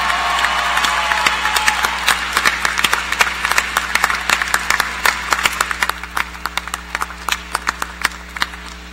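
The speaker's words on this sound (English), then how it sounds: "please extend a round of applause for the faculty who also supported you through your educational" Commencement ceremony audience applauding the faculty, a broad wash of clapping from a large crowd that gradually thins into scattered individual claps toward the end.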